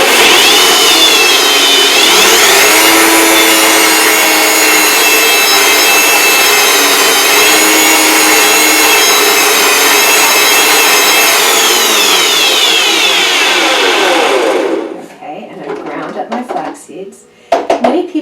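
A kitchen appliance grinds flax seeds on low speed with a loud, steady whirring roar for about fifteen seconds, then cuts off, leaving faint clinks and handling sounds.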